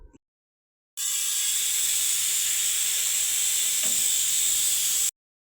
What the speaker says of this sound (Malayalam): ഇത് കഴിഞ്ഞ് നമുക്ക് കുക്കറിൽ വേവിക്കാം.